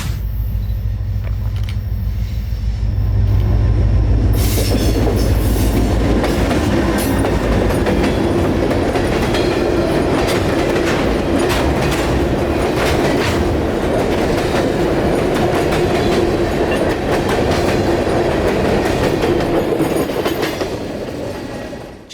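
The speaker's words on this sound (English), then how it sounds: "the train would be coming up to the south end of Sutton Siding" A heavy freight train rumbles past nearby around Tampa Bay, steady and loud for the whole stretch, wheels clicking and clattering over the rails.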